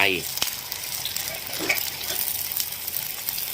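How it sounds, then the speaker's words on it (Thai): Loud hissing sizzle of eggs frying in hot oil in a pan for a Thai fried oyster or mussel dish, close and continuous, with a brief clink of a utensil near the start. "แล้วเราก็ตอกไข่ลงไป"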